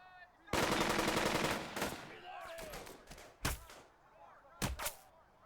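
Gunfire on an enemy unit in the WWII tactics game Burden of Command, with a long, loud rattling burst of automatic fire, then a quieter stretch broken by two sharp, heavy single shots.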